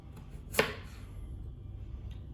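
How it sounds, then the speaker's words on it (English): A single knife cut slicing through a thick sweet potato, one crisp chop on the board amid quiet kitchen background with a faint tap later. "then I just do thin slices this way"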